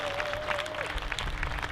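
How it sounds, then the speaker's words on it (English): Audience applause at an outdoor Hawaiian slack key guitar festival on Maui, a brief, steady patter of many hands clapping at a moderate distance. "Clap, clap, clap, clap, clap."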